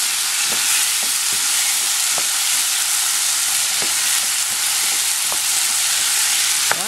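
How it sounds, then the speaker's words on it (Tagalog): Tomatoes fry in a pan for a sardine and spinach sauté, giving a steady, loud sizzle with scattered sharp pops and clicks from stirring, and no voices. "Okay, lutuin lang natin yung kamatis."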